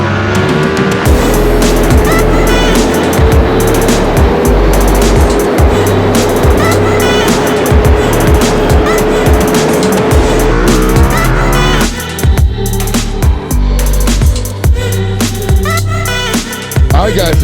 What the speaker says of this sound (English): Let's go ahead and pull the rest of the bikes in the FastLane fleet out